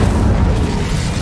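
A loud, deep booming blast from the Incendio fire spell in the Hogwarts Legacy video game, a dense roaring burst filling the whole short moment up close.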